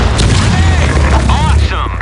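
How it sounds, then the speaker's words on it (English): A grenade explosion in the shooter game Insurgency Sandstorm, a loud sustained low boom with crashing debris rolling underneath shouted voices, dropping off near the end. "Grenade! Fire in the hole!"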